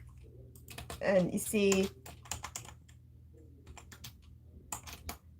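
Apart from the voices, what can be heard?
typing on a computer keyboard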